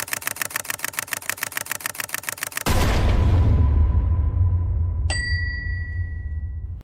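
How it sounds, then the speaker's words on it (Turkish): A ten-year-old Honda CBR 250R motorcycle with 58,000 km idles with a rapid, even putter, then gives way to a louder, sustained roar, broken by a single bright ding. "Benim de ilk makinem, ilk göz ağrım olan Honda CBR 250R."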